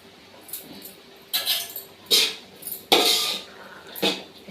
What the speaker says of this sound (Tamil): தேங்காய் பூ சேர்த்து நல்லா கலந்து விட்டுடலாம்